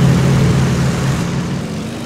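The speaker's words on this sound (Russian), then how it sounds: "О, самолетиков." Low, steady engine drone of aircraft flying overhead in the military shooter ArmA 2, a continuous propeller-like hum that holds level for about two seconds and eases off slightly toward the end, with no voices.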